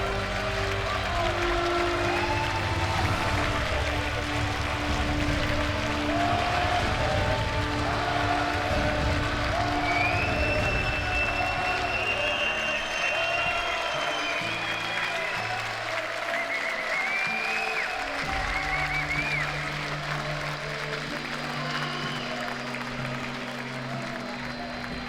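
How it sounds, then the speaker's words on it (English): A large esports tournament crowd applauds and cheers steadily after a Red Bull Wololo El Reinado Age of Empires series, a dense, continuous roar of clapping and voices that holds for the whole stretch. "we will let the crowd speak for itself"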